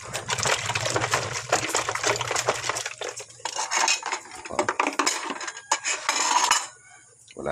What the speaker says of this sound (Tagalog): Hugas plato tayo.